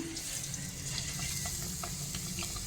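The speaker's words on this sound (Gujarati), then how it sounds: "તો આપણે એને તળી લઈશું" Spiced bread pieces for Gujarati-style bread pakoda fry in oil with a quiet, steady sizzle and scattered small pops, continuous and without voices.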